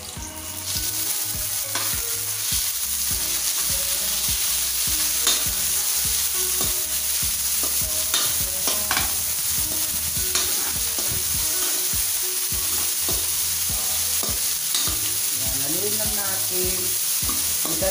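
Pieces of pork sizzle and crackle steadily in a hot pan for a kalabasa soup, with repeated scraping stirs of a utensil against the pan, close and continuous without speech.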